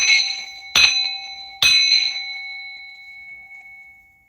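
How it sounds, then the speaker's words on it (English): A handheld bell is struck twice in quick succession, each bright metallic ding ringing close and clear before a long shimmering decay fades to silence. "So I'm going to bang this bell to remove, block, and rebuke all negative energies"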